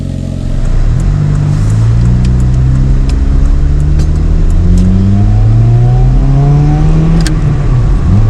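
Close and loud, the Honda Civic with its aftermarket Amazon exhaust and silencer pulled idles with a raspy drone, then the engine swells into a rising rev near the end.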